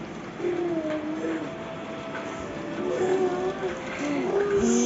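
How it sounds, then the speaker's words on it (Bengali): A passing train heard from a home rumbles at moderate distance, with faint horn-like tones rising and falling over the steady rolling noise. "ওই যে ট্রেন এসছে,"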